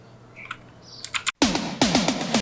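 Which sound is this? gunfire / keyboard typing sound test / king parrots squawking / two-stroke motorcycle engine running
keyboard typing sound test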